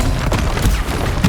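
A Stupefy spell is cast during combat in Hogwarts Legacy, with sharp magical bursts flaring out of a dense, roaring battle din. Several quick impacts land close and loud over a continuous low rumble.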